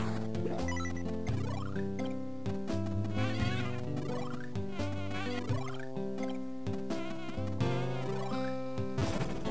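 Bees buzz in the Game Boy Advance game Wario Land 4, in the Wildflower Fields stage, a busy insect drone woven through bright, layered game music with no talking.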